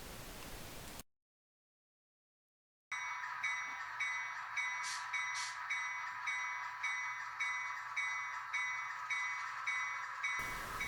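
A model train runs on a Long Island Rail Road layout recreating the Maspeth and 49th Street crossing. It makes a steady rolling hum with regular rhythmic clicks, broken by a short stretch of silence.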